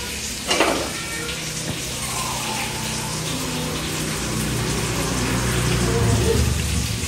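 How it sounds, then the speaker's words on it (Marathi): Surmai fish frying in a pan, a continuous close hiss and crackle of oil with a brief clatter near the start, steady and fairly loud throughout with no clear talk. "आपलं फिश फ्राय तर ऑलमोस्ट होत आलेलं आहे"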